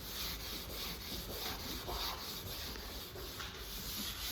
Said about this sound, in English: I'm just taking regular Scotch-Brite and just scuffing it up real good.